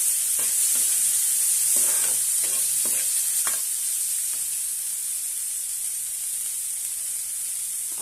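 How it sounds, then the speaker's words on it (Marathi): Finely chopped tomato sautéing in a pan for brinjal chutney, a constant high hiss of frying with a run of scraping, knocking stirs early on that fade to a steady sizzle, no talking. "आता यामध्ये एक टोमॅटो बारीक कट केलेला आहे तो घालूया आणि तो पण छानपैकी परतून घेऊया।"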